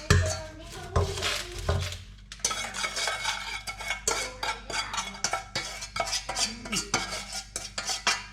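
Homemade popcorn being stirred and tossed in a pot, with a steady run of close scraping and clinking of a utensil against metal, loud and busy throughout, with a short pause early on.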